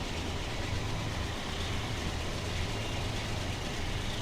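Train in Train Simulator 2021 running steadily, a constant low rumble and mechanical drone with no breaks, fairly loud and alone without talk.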